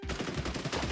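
Rapid turret gunfire from the video game Blue Archive rattles out in a brief, dense burst of repeated shots, steady and mid-loud with no voices over it.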